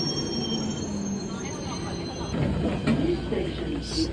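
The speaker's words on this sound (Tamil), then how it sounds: "We are catching the second train." London Underground train running between Tottenham Court Road and Euston, its wheels squealing in high steady tones over a continuous low rumble, with voices in the carriage.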